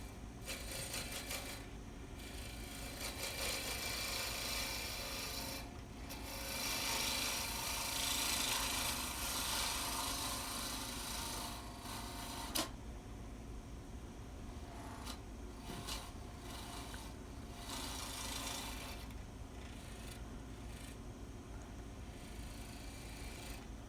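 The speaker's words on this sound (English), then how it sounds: "all we're doing is removing wood, getting it down to the maximum diameter" A wooden conductor's baton spins on a lathe as a tool removes wood, giving a steady, fairly quiet scraping rasp with brief pauses and a sharp click midway.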